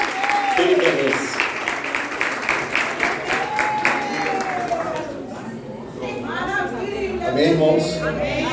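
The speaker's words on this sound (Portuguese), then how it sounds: "Pode louvar ao Senhor com as palmas para Jesus" A church congregation claps along rhythmically, steady and full throughout, with a voice singing or calling out over the clapping and crowd murmur.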